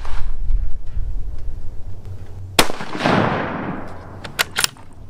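Rifle shots fired downrange while sighting in a new scope on a coyote hunting rifle with a new stock: a few loud, sharp cracks, one with a long rolling echo, then two quick reports close together over low outdoor rumble.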